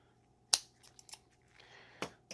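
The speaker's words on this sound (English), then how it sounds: "I'm going to just snip this open." Scissors snip open a tube of Loctite threadlocker during a trigger install, giving a few sharp, close snips and clicks in quiet surroundings.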